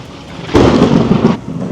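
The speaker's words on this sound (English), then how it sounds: "Lightning is all around me." A sudden loud thunderclap bursts out over steady rain during an evening thunderstorm in Orlando, rumbling for nearly a second before easing back into the constant hiss of rainfall.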